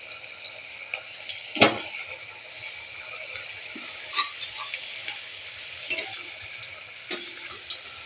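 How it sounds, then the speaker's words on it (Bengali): Eggless egg-shaped batter pieces fry in hot oil, giving a soft continuous sizzle broken by a few sharper crackles and pops, close and fairly quiet with no talking. "তেল গরম হয়ে গেছে আমি এক এক করেই ডিম আকৃতিগুলোকে দিয়ে দেবো"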